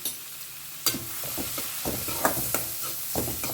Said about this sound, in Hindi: अब प्याज को ना 1-2 मिनट के लिए अच्छे से भून लेते हैं